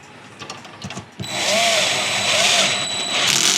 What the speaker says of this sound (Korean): 나사를 박아주도록 하겠습니다